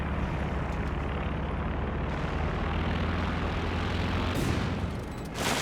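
In Company of Heroes 2, a recon plane drones steadily overhead while anti-aircraft fire rattles beneath it, a continuous engine hum with bursts of gunfire and no talking.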